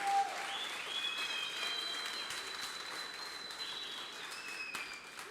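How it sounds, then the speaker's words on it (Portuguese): Church congregation applauding in steady, sustained applause, fairly close and dense, continuing throughout without a break, with faint voices blended into the clapping. "Aplaude esse Deus."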